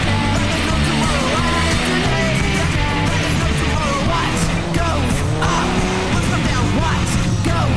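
4WD race cars compete at a racing event at Wonthaggi, with a dense, continuous roar of engines, occasional tyre squeal and distant crowd shouts filling the whole stretch.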